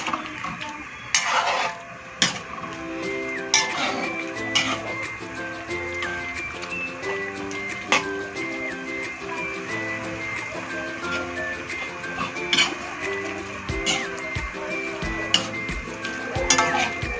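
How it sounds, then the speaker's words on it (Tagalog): Cooked food is stirred in a pan over steady sizzling, the utensil clanking and scraping against the metal at irregular intervals, close and fairly loud, with no one speaking. "Haluin lang natin konti."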